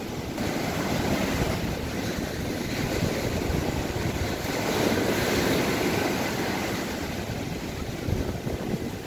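Stormy sea surf breaking on a Crimean beach near Kerch, a loud continuous roar of crashing waves with wind noise and no talking.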